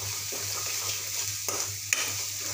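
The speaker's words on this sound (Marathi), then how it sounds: "अर्धा चम्मच धना पावडर, लाल मिरची पावडर 1 चम्मच, हे सर्व असं मिक्स करून घ्यायचं।" Coriander powder and red chili powder are stirred into a pan over a steady, soft sizzle, broken by a few brief scrapes of a spoon against the metal.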